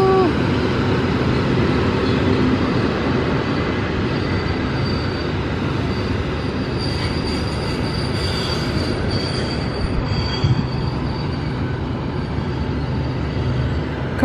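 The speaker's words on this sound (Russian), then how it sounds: "Смотрите, какой длинный поезд пассажирский." A long passenger train rolls past nearby with a steady rumble and high squealing wheels, continuing without a break throughout.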